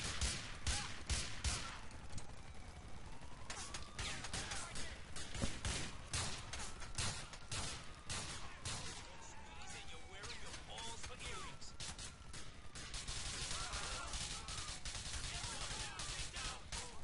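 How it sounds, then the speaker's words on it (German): Gunfire in GTA 4, bursts of rapid shots and sharp cracks hammering throughout at fairly low level, mixed with crashes and a voice talking over the shooting. "Wer schießt da auf mich?"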